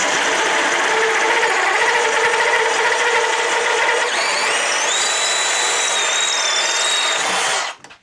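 A corded stud and joist drill bores with a Milwaukee 2.5-inch Hole Dozer hole saw, making a loud, close, steady grinding whine. Halfway through it rises into shrill, wavering high squeals, then stops abruptly at the end.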